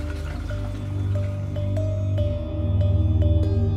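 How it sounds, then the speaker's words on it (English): Water runs down the back wall of an abandoned iron mine, giving a soft, steady trickle and drip inside the enclosed tunnel. A low, continuous hum underlies the sound, and faint drips are heard throughout. "And there's more water here on the back wall flowing down."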